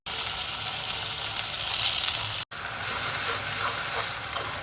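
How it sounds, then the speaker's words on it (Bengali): Onion with cinnamon, cardamom, cloves and a bay leaf frying in hot oil, a steady close hiss that cuts out briefly midway and then resumes just as strongly. "তো সেখান থেকে আমি কিছুটা পেঁয়াজ তেলে দিয়ে দিব"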